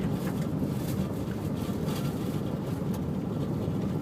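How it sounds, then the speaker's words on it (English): A car rolls along a bumpy gravel road between creeks, a loud, constant rumble of tires and road noise that fills the cabin without pause. "it's loud because it is a gravel road"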